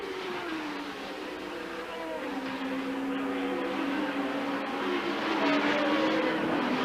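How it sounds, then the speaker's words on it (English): A Brabham Formula One race car with a BMW turbo engine drones at high revs as it enters the stadium at the German Grand Prix at Hockenheim, a sustained engine note that rises in pitch and grows steadily louder. "they see the Brabham with its BMW turbo engine come into the stadium"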